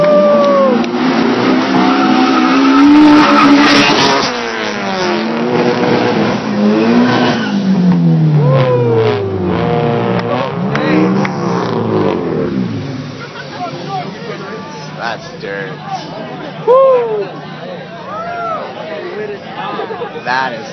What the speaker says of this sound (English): Civic's gonna race the 240?